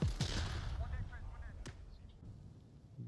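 A huge explosion with gunfire hits in an Onward VR match, a sharp blast up front and a second crack about a second later, all over a dense, continuous rumble of battle noise.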